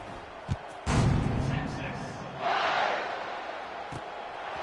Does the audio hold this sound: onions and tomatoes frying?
no